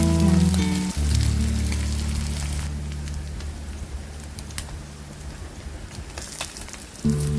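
Small kozhuva fish fry in hot oil in a pan, making a loud, dense sizzle that eases into a softer crackle partway through, then swells again near the end.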